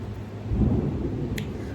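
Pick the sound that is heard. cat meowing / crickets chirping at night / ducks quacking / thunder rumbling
thunder rumbling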